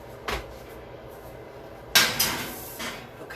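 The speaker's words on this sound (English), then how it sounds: "Let me put the pan." A baking pan handled in a home kitchen while making ravioli lasagna, with several clanking metallic knocks and a louder set-down clatter, close and otherwise quiet.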